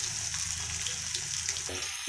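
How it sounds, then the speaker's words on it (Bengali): Fish frying in a pan, a soft steady sizzle that stays faint and even throughout, with no talking. "মাছগুলোকে হালকা করে এপিট ওপিট করে ভেজে নিচ্ছি।"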